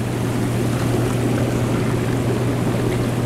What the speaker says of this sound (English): Add some air here.